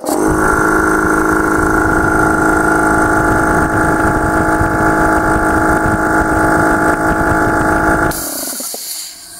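Scorpion air compressor running loud and steady for about eight seconds as it builds toward 8 bar, a continuous motor drone that cuts off abruptly near the end, leaving a brief hiss.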